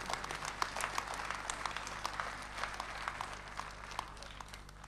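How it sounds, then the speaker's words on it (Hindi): An audience at an Indian Republic Day kavi sammelan and mushaira welcomes a guest onto the stage with dense, continuous applause. The crackle of many hands stays steady and fairly soft, as if heard from some distance. "बहुत सारी तालियां डॉक्टर सोमदेव शर्मा के लिए"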